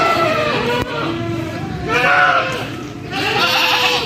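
Many goats crowded into a small indoor farm shed bleat loudly and continuously, their overlapping cries rising and falling close by, with a voice speaking underneath.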